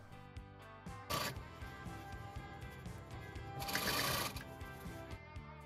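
A sewing machine stitches lining fabric for a lehenga ghagra, a close run of rapid needle taps with two louder bursts of rustling fabric handling, no voices.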